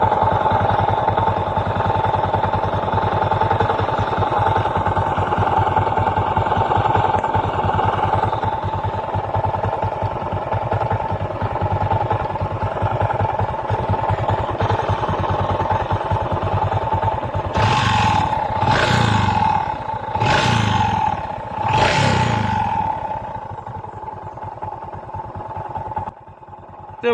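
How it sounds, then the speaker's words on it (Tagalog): A Honda XRM 125 carbureted motorcycle engine idles steadily with a faulty side bearing, a close, continuous mechanical clatter that ends in a few louder revs near the end. "iparinig ko muna sa inyo ang tunog ng kanyang makina."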